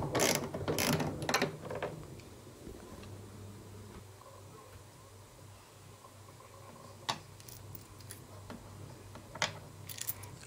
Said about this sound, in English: Just removing the bolts or the screws, retaining screws.